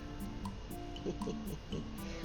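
A brush works water into gouache paint at close range, making soft wet dabs and squishes in an irregular rhythm over quiet room tone.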